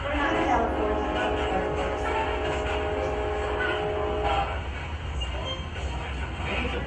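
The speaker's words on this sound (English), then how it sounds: "At least I hope it's a train. That one's hauling ass." A freight train rumbles past a historic building in Jefferson, Texas, a steady loud low roar with a faint horn-like tone early on, fading slightly toward the end, with people talking over it.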